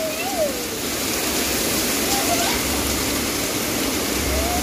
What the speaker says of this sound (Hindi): देखिया वर्षा रानी देखिया वर्षा रानी देखिया वर्षा रानी